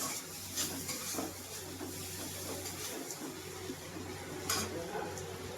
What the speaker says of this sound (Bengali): আমি রসুনটা দিয়ে ভালো করে নেড়ে ছেড়ে কষিয়ে নিয়েছি